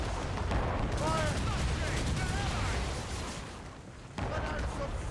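Ship cannons firing in a naval battle in Assassin's Creed Rogue, heavy booming shots rolling over a dense rumbling backdrop, with shouted crew voices and talk layered on top.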